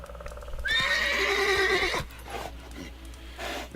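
Roach, Geralt's horse in The Witcher 3, gives one loud, close whinny that rises and then falls away over a couple of seconds, followed by soft hoof clip-clops.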